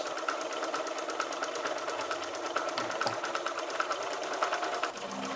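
A sewing machine runs continuously, quilting straight stitch lines across a color block throw with the presser foot as a guide; the needle's rapid rhythmic chatter stays close and fairly quiet, with no talking.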